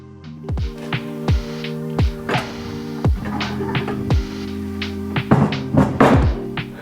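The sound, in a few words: bearing being pressed into place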